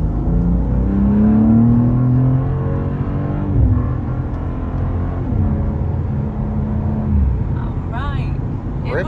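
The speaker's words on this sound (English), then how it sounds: "give it a good little hard throttle here." A car accelerating under hard throttle, engine note sweeping upward through the gears loud and close, with people talking over it.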